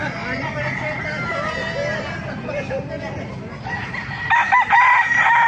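Roosters crow and hens cluck amid a busy farmyard babble at a chicken market in Baliuag, Bulacan, Philippines, with a loud nearby crow ringing out near the end.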